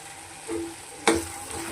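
Tomatoes and cashews fry in oil for a curry to serve with pulao rice: a soft, low sizzle with a brief stirring clatter near the middle, and no talking.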